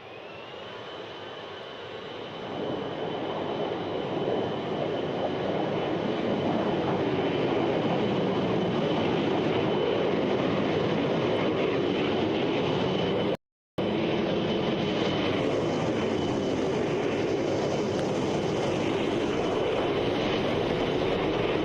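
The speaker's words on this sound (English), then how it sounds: "You are clear for takeoff, runway north." A military aircraft on an airfield runway in ARMA Reforger gives a loud, sustained jet engine roar that swells over the first few seconds and then holds steady, with one brief dropout midway.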